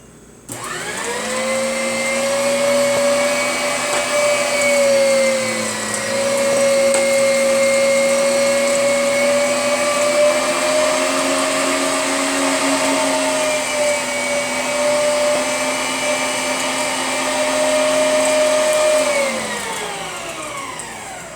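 An electric meat grinder runs steadily for about twenty seconds, grinding meat for cracked pepper and garlic summer sausage. Its loud, even motor whine rises as it starts and drops away as it winds down at the end, with no voices.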